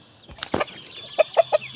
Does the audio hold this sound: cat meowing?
no